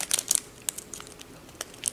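A crinkly plastic packet of craft glitter is torn and crumpled open by hand, giving a string of sharp, close crackling rustles in irregular bursts with no talking.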